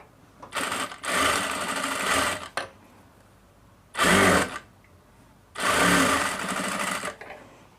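A sewing machine stitches a blouse in three sustained runs of fast, steady whirring needle action separated by short pauses, loud and close with no talking.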